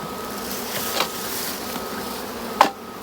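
Honey bees buzz in a steady, close drone from an open hive during an early spring inspection, with a couple of brief knocks or bumps standing out above the continuous hum.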